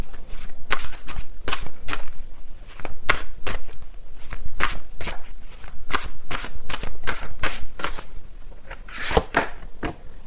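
Tarot cards shuffled by hand in a long run of sharp, crisp riffling bursts, close and loud, repeating in quick irregular rhythm with no talking.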